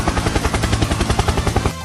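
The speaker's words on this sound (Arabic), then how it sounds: "هليكوبتر." Rapid, steady chopping thrum of a helicopter rotor, loud and close, holding a fast pulsing rhythm without a break and with no voices over it.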